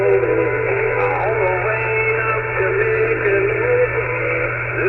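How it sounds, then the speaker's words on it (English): A shortwave radio signal crackles with harsh distortion, a garbled warbling tone over a steady low hum, moderately loud and continuous. "After trying to listen to this signal and hearing that distortion"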